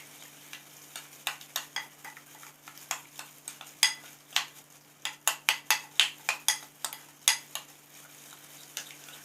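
Spoon stirring and mixing a thick chicken lollipop marinade paste in a bowl, a quick irregular series of close, sharp scraping clicks and taps against the bowl, with no talking.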